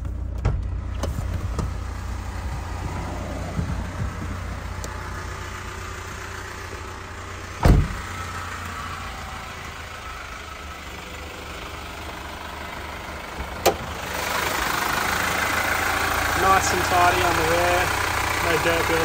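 A 2021 Toyota HiAce long-wheelbase van with a 2.8-litre turbo diesel and manual gearbox idles steadily with a low, constant drone, broken by a couple of brief knocks or clunks and a hiss that rises near the end, with a person speaking over it.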